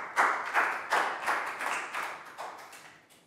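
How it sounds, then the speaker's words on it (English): A small group of primary school pupils in a classroom clapping for a classmate, a few close, sharp, rhythmic claps that gradually fade away over a few seconds. "Round of applause for Prel."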